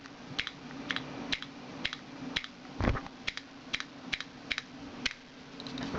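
Typing on a computer keyboard with a notable spacebar, a steady run of crisp key clicks in small bursts, close and fairly quiet, with one heavier thump partway through.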